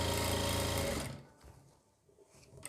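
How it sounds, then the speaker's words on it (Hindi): Sewing machine stitching an invisible zip onto the back of a kurti, a fast close whirring run for about a second before it slows and stops, leaving faint handling noise. "आपको यहाँ पे सिलाई लगाते हुए आना है"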